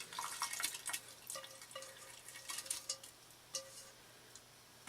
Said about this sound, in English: we are going to pour the brewed tea through the strainer bag into the brewing vessel